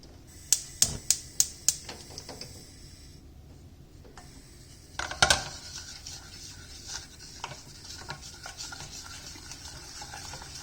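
Homemade modelling dough cooking in a pot on very low heat, with a quick series of sharp clicks and clacks at the start, then softer stirring scrapes and faint sizzling, close and fairly quiet.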